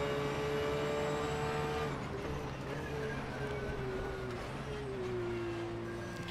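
A Porsche race car revving high in the racing simulator rFactor 2 at the Oschersleben circuit: a steady engine whine that drops and then climbs again through the gears. Loud and continuous, with no talk.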